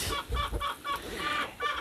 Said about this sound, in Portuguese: Agora a galinha gritando de um lado, o galo cantando do outro.